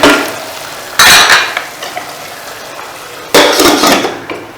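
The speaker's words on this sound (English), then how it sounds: "Stir it in a little bit and let it cook covered." A spoon scrapes loudly in a pot while a sprig of curry leaves is stirred into Konkani bamboo shoot curry (keerla ghashi), coming in two close, vigorous bursts with faint clinks between them.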